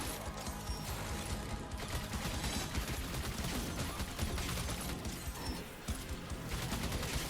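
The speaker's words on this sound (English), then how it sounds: "So we are going to be shooting some of these little guys." Rapid, continuous gunfire and clattering impacts while shooting hordes of enemies in the video game Orcs Must Die!, a dense, loud barrage of overlapping shots and mechanical crashes with no pauses.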